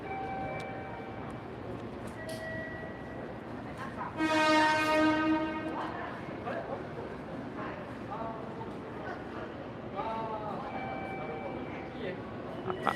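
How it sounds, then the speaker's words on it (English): Trains at a station in Takamatsu, Japan, rumble in the background while a loud horn blast sounds midway, with tonal chimes and people talking around it. "But they're only trains, we film them anyway."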